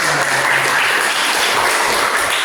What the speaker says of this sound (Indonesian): Kita tepuk tangan dulu teman-teman.